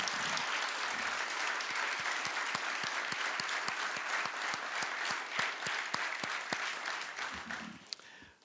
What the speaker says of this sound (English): How about one more round of applause for the 2est members of the Orlando Magic Hall of Fame, John Gabriel and Brian Hill.